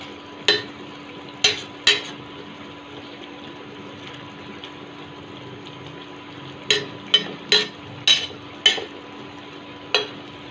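A spoon stirs a hot tomato, mint and sesame chutney mixture in a pan, making a few sharp scraping clicks in two clusters over a steady low kitchen hiss, close and moderately loud.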